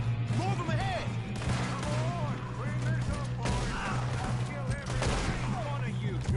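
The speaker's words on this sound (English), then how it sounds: "Good shooting, kid." Gunfire in a Red Dead Redemption 2 shootout, a busy stretch of shots and crackling reports under steady background noise and scattered voices, continuous across the whole stretch.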